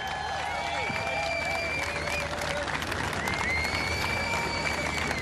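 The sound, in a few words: crowd cheering for elite women runners at the half marathon start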